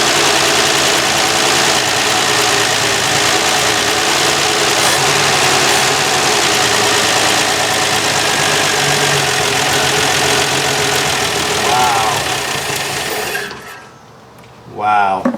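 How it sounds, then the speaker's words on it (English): A classic car engine, started after sitting unused for years, idles steadily and loudly up close for most of the stretch, then cuts out abruptly near the end, leaving brief quieter sounds. "Music to my ears. And the exhaust is totally clear."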